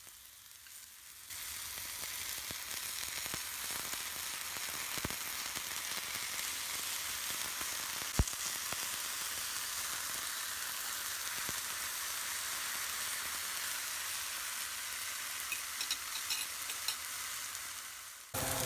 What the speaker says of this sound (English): It will take 1 or 2 minutes for one side of the mushroom to go golden brown.